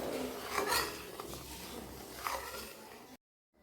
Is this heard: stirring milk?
yes